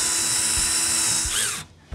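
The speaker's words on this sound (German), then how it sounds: "Ich halte oben fest und du schräubst." Cordless drill driver sinking quick-build screws into a stud frame for a wall-hung toilet installation, a loud close whirring motor run that winds down and cuts off near the end.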